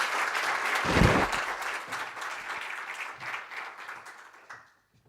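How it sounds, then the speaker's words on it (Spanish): An audience gives loud, sustained applause at a women-of-the-sea event, dense clapping from a crowd that swells early, holds steady, then cuts off abruptly near the end. "Y te damos un fuerte aplauso."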